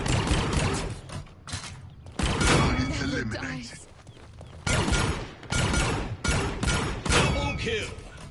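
Kinessa's pistol in Paladins fires in repeated loud bursts with short gaps between them, sharp mechanical cracks up close, and voices may sit underneath.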